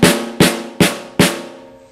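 A badly tuned snare drum hit four times in steady succession, each stroke low and messy with clashing overtones like two pitches sounding together and a long, muddy ring-out, close and loud without talk.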